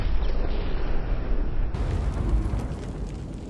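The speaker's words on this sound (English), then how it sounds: "No such thing as a bad explosion." A large explosion in the co-op mining shooter Deep Rock Galactic produces a loud, sustained rumbling blast with dense low-end roar that slowly tapers off over a few seconds.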